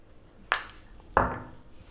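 A fork or knife presses around the pastry edge of a homemade steak and kidney pie in a dish, making two separate clinking taps against the dish about two-thirds of a second apart, close and fairly quiet.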